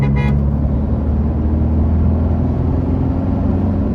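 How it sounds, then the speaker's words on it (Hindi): A Toyota Hilux's horn gives a short toot at the start, over the steady, loud rumble of the truck driving along an open highway. "बाबू जी डिपर दे दिया मैंने, हॉर्न भी दे दिया"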